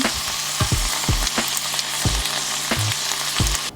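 Shredded cabbage and chopped carrot fry in a hot pan for Guyanese-style fried rice, giving a steady loud sizzle broken by repeated scraping stirs and clanks of a utensil against the pan.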